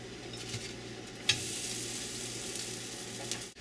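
Corn tortillas fry in a pan for chicken tortilla soup, giving a steady close sizzle and crackle. One brief clatter breaks through early and a faint knock comes near the end.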